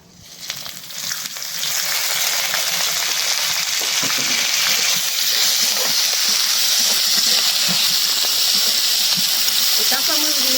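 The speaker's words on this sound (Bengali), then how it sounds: "এখন একটু তেল দিয়ে দেই, ভাজাটা ভালো হইব।" Green chilies and garlic frying in oil for a chili mash, a loud steady sizzle that rises within the first second or two and then holds as a dense, continuous hiss close by.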